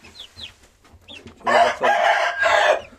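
A rooster crows loudly and drawn-out near the end, after a few short, high chirps and soft clucks from hens.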